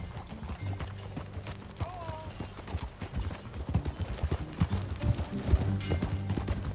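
Horse hooves clip-clop at a riding pace in Red Dead Redemption 2, a steady rhythmic patter under low game music and ambient noise, with hoofbeats growing louder and busier toward the end.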